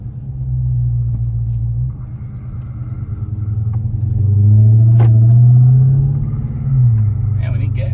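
900-horsepower Jeep Trackhawk on street tires, its engine rumbling loudly up close before surging into a hard, rising acceleration, then easing off and swelling again near the end.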